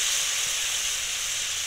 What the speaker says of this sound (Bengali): এবার এতে অল্প একটু জল দেব,